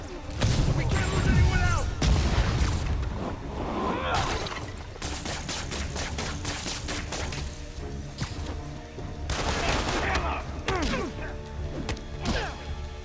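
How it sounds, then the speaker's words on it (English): Enemy gunfire during a Spider-Man video game heist, heard as a rapid series of sharp cracks and thwacks mixed with whooshes and impacts, with a voice shouting over the action. "Don't fucking shoot at me!"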